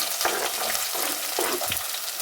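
Steady, loud sizzling of chopped onion and garlic frying in hot oil for fish curry, a continuous crackle with occasional stirring bumps.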